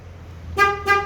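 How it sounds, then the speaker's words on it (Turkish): Two short horn toots from a 2013 Ford Focus, close and loud, over a low idling engine hum. "Arkadaşlar korna selamlama"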